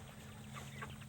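Pastured chickens clucking near a coop at dusk, soft scattered clucks and murmurs close by over a steady low background hum, quiet and brief with no talking.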